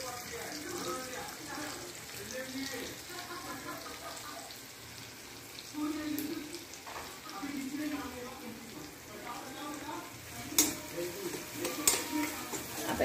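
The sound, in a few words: onion frying in a pan with salt, stirred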